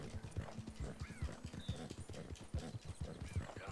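Horse hooves gallop at a steady clip-clop rhythm in Red Dead Redemption 2 on Xbox One X at nightfall, close and continuous, with an occasional faint whinny and no talk.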